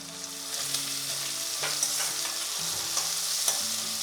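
Finely chopped onions fry in hot oil in a pan with curry leaves. The sizzle is steady and close, with light stirring scrapes and no talking.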